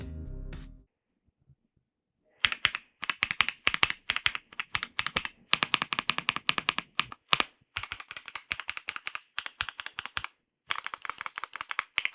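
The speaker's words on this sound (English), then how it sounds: "I got my best typing speed record using this keyboard on Monkey Type" Rapid typing on a Velocifire AL65 mechanical keyboard: dense bursts of close, crisp key clacks in quick runs with brief pauses between them, and no talking.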